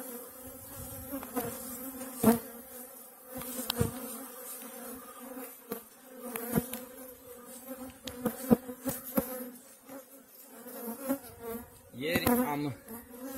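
Honeybees buzz steadily inside a barrel hive, a close, continuous drone with occasional louder passes of single bees, no voices.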